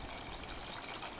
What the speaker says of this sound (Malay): Kemudian masukkan santan.